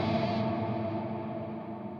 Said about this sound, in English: That one was quite a bit heavier, a lot like longer lasting, bigger reverb.